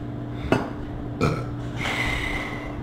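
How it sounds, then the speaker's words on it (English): Two short burps after dinner sound close to the microphone, with a thin whistling tone trailing after them. "Sorry, burp, but"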